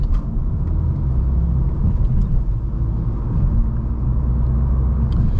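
A VW MK8 Golf R accelerating hard out of a corner, heard as a loud, steady, deep engine rumble and drone from inside the car, continuous with no speech.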